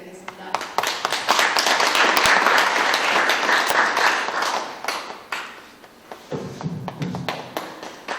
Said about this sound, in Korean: 선생님이 좋은 말씀을 기대하면서 큰 손뼉으로 맞이하겠습니다